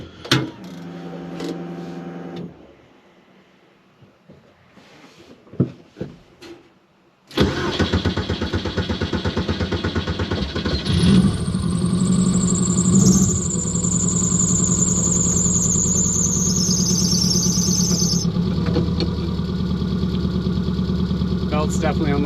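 A Volkswagen Bug's cold engine cranks and catches after sitting for a week or more, then settles into a loud, steady idle with a squealing belt whine over it; voices talk briefly before the start.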